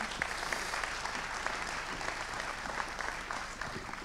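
An audience at the Enerplan national colloquium on photovoltaic self-consumption applauds Alain Lafort, giving a steady, even wash of clapping from a seated crowd throughout.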